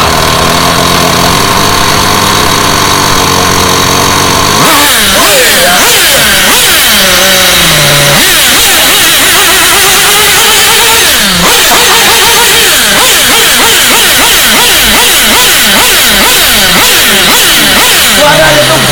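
A small engine with a hand pull starter catches and fires, first a steady idle, then loud, choppy revving bursts that rise and fall repeatedly, close and harsh.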